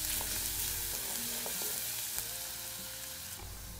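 Crushed ginger and garlic drop into hot oil for a chicken curry and sizzle in a low, steady hiss, with a few faint clicks as the sizzle slowly eases off.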